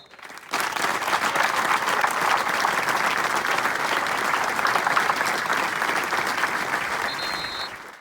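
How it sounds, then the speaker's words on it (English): A football crowd's minute of applause at a Scottish ground in memory of a former Celtic captain, a dense, loud, sustained roar of clapping that begins abruptly and holds steady throughout. "everyone at K Park observed a minute's applause in memory of legendary Celtic captain and Lisbon Lion Billy McNeill"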